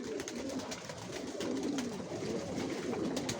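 Racer pigeons in a loft coo steadily in overlapping, close murmuring calls, a dense flock sound filling the whole stretch without any talk.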